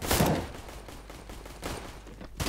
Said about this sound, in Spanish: me empiezan a disparar